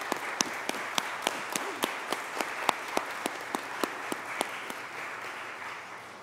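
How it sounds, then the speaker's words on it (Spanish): A Catholic church congregation applauds newcomers during Sunday Mass, steady clapping from a crowd with sharp individual claps popping out above the even patter, lasting several seconds without talk. "les damos un aplauso a los que vinieron por primera vez en estos tiempos"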